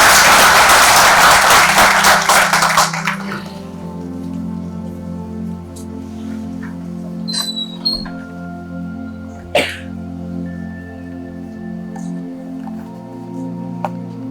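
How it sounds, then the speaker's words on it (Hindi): Audience at a public speaking event in a hall bursts into dense, loud applause for the first three seconds, then the clapping cuts off, leaving a quiet hum and a few faint clicks. "आपकी तालियों की गड़गड़ाहट के साथ"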